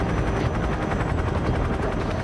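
A rocket launcher firing in Metal Gear Solid 3 amid continuous battle noise, a steady dense roar of rapid popping and rumble that holds for over two seconds at even loudness, with no talking.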